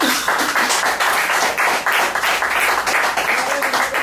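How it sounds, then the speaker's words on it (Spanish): Dense, loud applause from an audience at a talk held during a national strike in Buenos Aires province, many hands clapping rapidly and continuously for several seconds with slight swells, a faint voice beneath. "pido por favor un fuerte aplauso"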